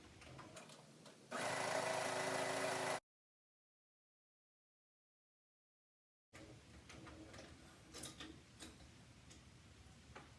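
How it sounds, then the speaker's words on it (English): A sewing machine stitches around the edge of a quilted Christmas stocking in two steady bursts, a short loud run, then a silent gap, then a longer, quieter stretch of rapid mechanical ticking. "So I'm going to sew quickly around the edge"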